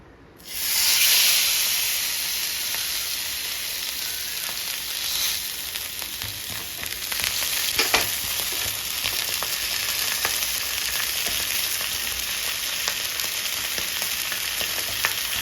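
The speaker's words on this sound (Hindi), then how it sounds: "दो फिश मैंने कढ़ाई में फ्राई कर ली हुई है। अभी मैं दो तवे में करके दिखाती हूँ आपको।" Green masala-coated pomfret fish fries on a hot tawa over a medium gas flame, giving a steady close sizzle and hiss that holds throughout with a few brief crackles and no talk.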